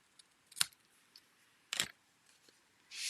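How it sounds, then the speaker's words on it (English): Two sharp, crisp snips from a paper trimmer or scissors cutting a thin paper border off a handmade card, separated by a quiet pause, followed by a brief rustle at the end. "this is just the tiniest border. Tinier on one end than the other, so I'm just going to trim it off."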